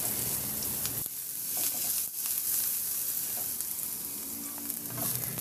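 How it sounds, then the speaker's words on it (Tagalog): Garlic sautés in hot oil in a kawali, a dense, close crackling sizzle with a few sharper spits and stirring scrapes, no voices. "Igisa ko na yung bawang."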